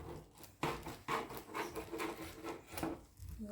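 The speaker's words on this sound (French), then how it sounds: "Je vais venir couper en deux avec un ciseau, c'est plus simple." Scissors snip through a sheet of brick pastry in a home kitchen, giving quiet dry crisp cuts and rustling in a few uneven bursts, close and soft.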